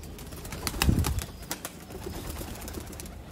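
Sialkoti bateray pigeons, a rare VIP breed kept on a rooftop loft, coo and rustle close by, with a burst of soft low cooing and a brief flutter of wings early on, then scattered light clicks and shuffling; no one speaks.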